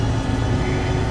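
Steady, loud roar of airliner engines spooling at takeoff power in the X-Plane 12 flight simulator, an Embraer regional jet on an American Eagle shuttle, a continuous droning hum with no talk over it.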